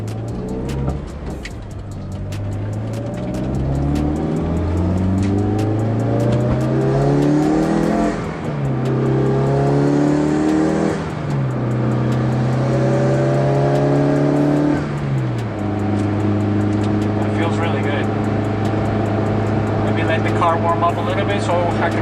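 A Mitsubishi Lancer Evolution IX fitted with a short shifter revs loudly through the gears, its pitch climbing then dropping at each shift before settling into a steady drone, with talking throughout.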